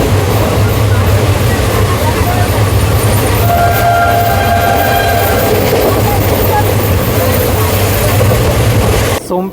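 An Intercity Superfast train arrives at Sompeta railway station with a loud, continuous rumble of wheels and carriages. A horn sounds partway through, and the train noise carries on steadily right to the end.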